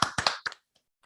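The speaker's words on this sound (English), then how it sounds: "Round of applause." A few sharp hand claps, about four quick claps close to the mic in a podcast room, then silence.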